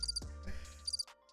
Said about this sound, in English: how are we getting crickets?